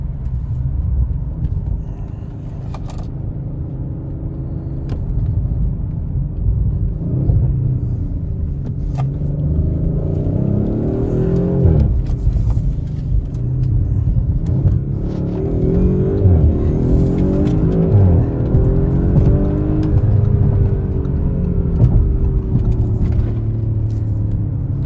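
A 2023 Audi RS5 with a 2.9-liter twin-turbo V6 drives hard, its engine rumbling loud and steady, rising and falling in pitch as it accelerates and eases through corners, with no voices.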